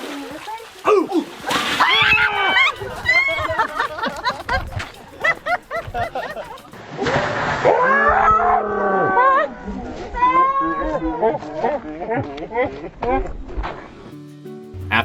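Water splashes and sloshes as an elephant gets a shower at an elephant sanctuary, with repeated bursts of spray amid lively nearby chatter and calls.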